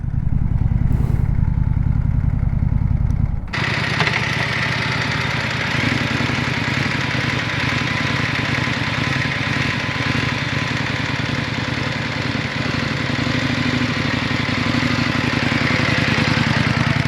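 A 2025 Indian Scout 101 motorcycle is ridden off for a spin, its engine note starting with a low rumble and then turning into a loud, sustained roar mixed with rushing wind that continues steadily for a long stretch.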